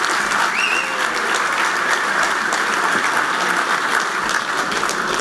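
Steady, full applause from an audience at a golf association's annual meeting honouring club members, loud and continuous with a bright, dense texture of many hands and a brief faint voice early on.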